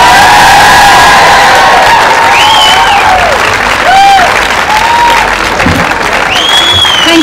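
A large audience applauds and cheers loudly and steadily at an early childhood learners event in Cork, with whoops and shouts rising over the continuous clapping throughout.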